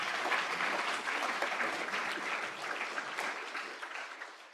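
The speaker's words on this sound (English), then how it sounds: "big applause to all the speakers in this session" Audience applause at a conference plenary session, a steady dense clapping from a medium-sized crowd that slowly thins and fades toward the end.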